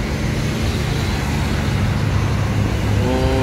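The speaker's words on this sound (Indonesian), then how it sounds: "Nah ini ada bus Jaki Buanator ya." A Dzakki Buana Tour bus rumbles past on a road in Sumatra, a loud, steady low engine drone mixed with surrounding traffic noise throughout.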